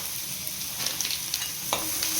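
Garam masala and chili powder fry in a pan with a steady, close sizzling hiss, broken by a few light clicks and scrapes of stirring and a brief louder sputter near the end.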